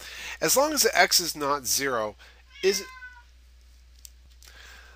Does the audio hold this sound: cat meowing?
yes